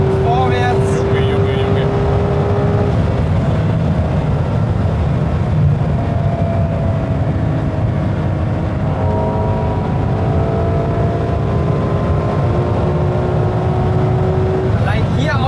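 Ferrari 812 Competizione V12 pulling hard out of sixth gear on the Autobahn, a loud steady engine roar with slowly rising tones and wind and tyre noise, heard from inside the car.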